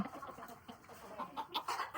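A hen clucks on a small farm where eggs are being collected, giving short, soft, irregular clucks at close range in a quiet setting.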